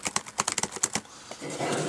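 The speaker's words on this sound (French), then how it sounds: "le clavier, je peux taper un beau n'importe quoi dans la barre de recherche" Quick, uneven keystrokes on an ASUS Transformer Pad TF300 keyboard dock, a burst of close, crisp taps that stops partway through, followed by a soft, steady hiss.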